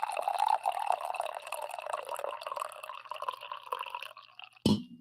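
A drink pours steadily into a glass, a bright, close liquid stream running for several seconds before stopping, followed by a short knock at the end.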